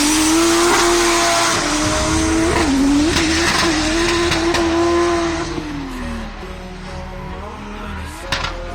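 A drifting car at Driftcup 2023 holds a loud, sustained engine howl with wavering pitch as it slides, joined by broadband tire squeal and skidding noise that fades somewhat toward the end.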